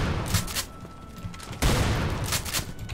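Machine gun bursts rattle in the horror shooter The Haunted: Hells Reach, several sharp loud volleys spaced unevenly, the heaviest around the middle, with faint game noise between.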